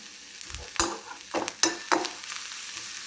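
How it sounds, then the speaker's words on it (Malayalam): A sweet filling is stirred and fried in ghee in a pan, with several distinct scraping stir strokes over a soft, steady sizzle, close and moderately loud, with no talking. "ഇതെല്ലാം ഒന്ന് മിക്സ് ചെയ്യുന്നു നന്നായിട്ട് ഇത് വഴന്നു നെയ്യും"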